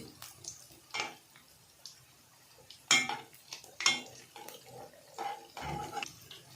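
Bonda made from idli batter fries in a pan as a metal utensil turns the pieces, giving scattered clinks and scrapes against the pan over a soft background, with a few louder knocks near the middle.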